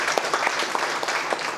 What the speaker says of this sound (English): Clap for Mangesh.